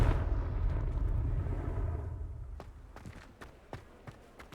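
Confringo blasting curse in Hogwarts Legacy, a loud booming explosion that rolls and fades over a couple of seconds, followed by a few scattered thuds and small impacts.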